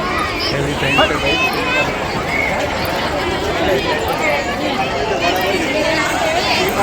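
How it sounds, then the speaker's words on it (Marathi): A dense, steady babble of many voices fills the crowded Vitthal temple in Shahad, with overlapping chatter and general hubbub that stays constant throughout. "पूरी गर्दी आहे ग"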